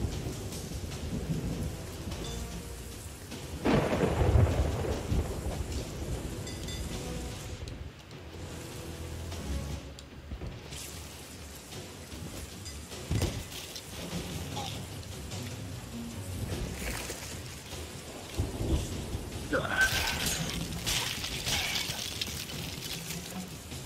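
Steady heavy rain pours down with rumbling thunder rolling in and out in a video game, a constant loud wash with a louder thunder swell near the end.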